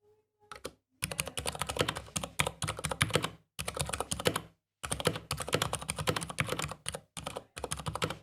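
Fast, dense typing on a TADA68 mechanical keyboard fitted with Gateron Silent Brown switches, PBT keycaps and a plastic case, heard alone: close, muffled key strikes in quick bursts separated by brief pauses.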